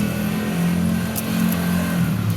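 A motorcycle engine idles and revs at a gas station, a steady, close mid-pitched hum that holds throughout with slight swells in intensity.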